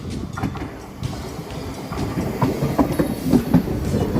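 SA103 diesel multiple units, cars 008 and 009 coupled as a pair, run on the line to RP1 airport station, with a steady rumble and wheel clicks building over the few seconds, fairly close and with no talking.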